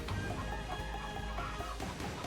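Chicken clucking in the video game Dead Cells, a short run of close clucks over a dense bed of game music and effects.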